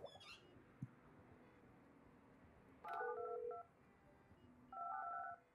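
In the building-management game Project Highrise, telephone dialing tones sound in two short bursts of stacked beeping touch-tones, separated by a quiet pause, with faint clicks earlier and low background hum.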